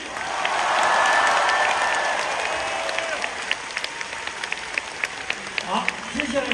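Concert audience at a world tour show breaking into warm, sustained applause that swells, then thins into scattered claps with a few voices over the crowd.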